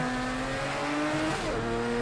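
A Group C race car engine in Project CARS 2 at Algarve drones steadily, then its pitch drops and shifts abruptly partway through in a botched gear change, loud and close, no voices.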